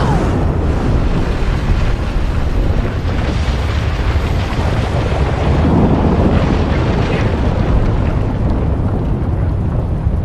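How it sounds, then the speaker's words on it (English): A building collapses in a RoboCop: Rogue City cinematic, a loud, sustained low rumbling roar with a windy, debris-filled wash that persists across the whole stretch without speech. "When the building collapses, the dust cloud will choke the engine."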